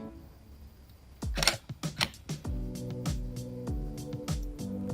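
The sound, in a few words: Canon EOS 1500D camera shutter taking shot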